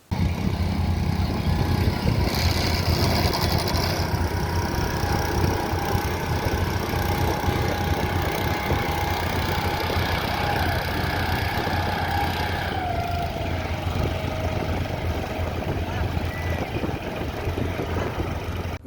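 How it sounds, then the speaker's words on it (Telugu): Boat engines run steadily during a large rally of sand-carrying boats on the Krishna river near Amaravati, a continuous mid-pitched engine drone with some knocking, loud and constant throughout with no talk. "పవన్ కళ్యాణ్ ప్రమాణ స్వీకారం నేపథ్యంలో కృష్ణా నదిలో భారీ పడవల ర్యాలీ"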